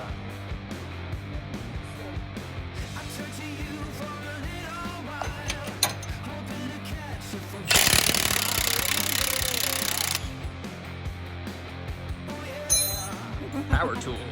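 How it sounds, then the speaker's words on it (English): Power tools rattle and whir while an axle is swapped on a Jeep JL Sport with a Dana 44, a steady mechanical chatter broken by a loud, sustained burst of tool noise midway and short sharp bursts near the end, with voices around. "Power tools."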